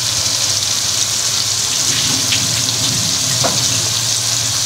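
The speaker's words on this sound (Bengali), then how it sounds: "পেঁয়াজটা ভাজা ভাজা করে নেব।" Onion and garlic paste fries in hot oil, a steady, dense sizzle that holds loud and even throughout with no talking.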